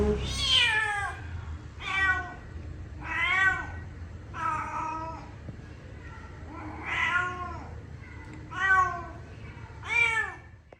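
A young kitten meows repeatedly, seven or so high, plaintive cries spaced about a second or two apart, close by and clear.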